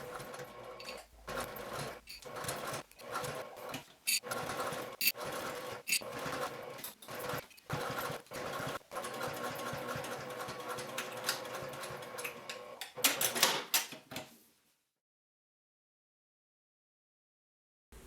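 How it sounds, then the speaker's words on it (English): Sewing machine top stitching a bag pocket in place, a steady mechanical whir broken into short bursts with brief pauses between runs, close and fairly loud, ending abruptly into silence. "take this over to the sewing machine and top stitch the pocket in place with a 1/4 inch seam allowance on the sides"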